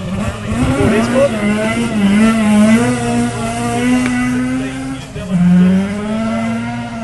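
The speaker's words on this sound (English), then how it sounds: "So Derek Asen from Gore in the Ford Escort" A Ford Escort rally car races along a gravel forest road at a rally sprint, its engine revving loudly and steadily close by, with pitch rising and falling through gear changes and a sharp dip near the end.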